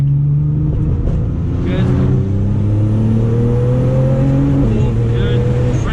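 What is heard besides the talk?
Nissan GTR accelerating hard out of a corner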